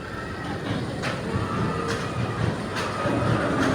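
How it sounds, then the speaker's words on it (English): Nitro roller coaster train rolling out of the station at Six Flags Great Adventure, a steady rumbling clatter of wheels on track with faint periodic clicks, continuous and fairly close. "Enjoy your ride on Nitro, the most explosive coaster in the park."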